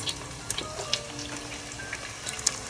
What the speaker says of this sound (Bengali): এগুলো আমি লাল লাল করে ভেজে নিব